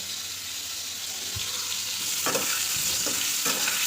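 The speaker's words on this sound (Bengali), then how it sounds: "পটলগুলো প্রথমে কেটে নিয়েছি তারপর এখন তেলের মধ্যে ভাজা করছি" Pieces of pointed gourd (potol) fry in hot oil in a pan: a constant close sizzle with several scraping stirs toward the end.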